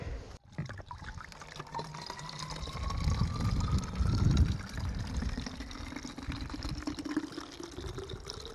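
Water from a stream on a hiking trail being filtered and poured into a bottle, a continuous trickle and gurgle that rises slightly as the container fills, heard up close with some wind noise.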